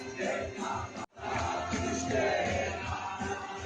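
A crowd cheering and chanting as a mosque burns, many voices roaring together at a distance, with a sharp cut-off after a second before the rowdy crowd noise resumes and carries on.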